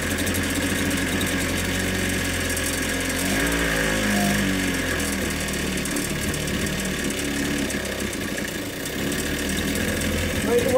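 Ryobi 410 cultivator small engine runs steadily nearby with a rough, buzzing idle that shifts slightly in pitch midway, while people talk over it.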